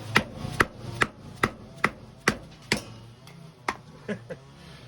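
A knife chopping through material during a hard-use test: about a dozen sharp, evenly spaced thuds roughly half a second apart, close and distinct, fading slightly toward the end.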